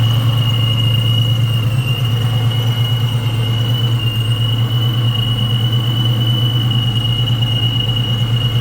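Supercharger whistle from a ProCharger-equipped 4.6-liter DOHC V8 in a 1999 Ford Mustang SVT Cobra, a steady high whine over a loud constant engine hum, close and unbroken throughout.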